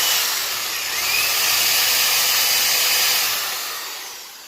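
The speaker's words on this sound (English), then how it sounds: "I take that 5/16 drill bit and just drill it on back." A high-pitched power drill with a 5/16 bit runs steadily for several seconds drilling out a frame rivet on a 1967 Chevy Impala, close and loud, then winds down slightly at the end.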